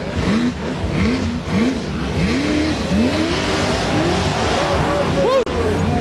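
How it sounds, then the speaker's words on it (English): A racing buggy's motor screams at full revs close by, with repeated sharp rises and falls in pitch as it shifts and accelerates, loud and continuous with some background voices. "his motor is screaming"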